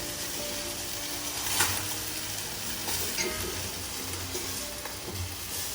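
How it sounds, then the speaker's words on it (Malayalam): Vegetable biryani stirred in a pot gives a steady, soft sizzle and gentle scraping throughout, with a few slightly louder stirs and no voices. "ലൈറ്റായിട്ട് വളരെ ശ്രദ്ധിച്ച് ഇളക്കുക"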